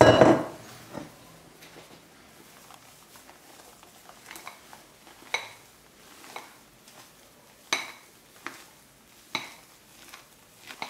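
Egg whites gently folded into a mascarpone mixture in a bowl with a spatula, giving soft scraping strokes and light clinks against the bowl at an unhurried, steady pace, close up.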